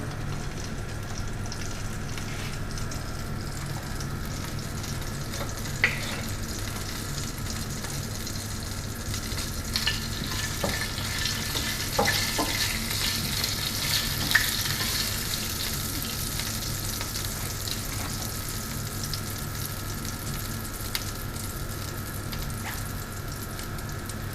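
Cumin seeds crackling in hot oil as a tarka for dal, a steady close sizzle dotted with small sharp pops throughout, with no talk over it.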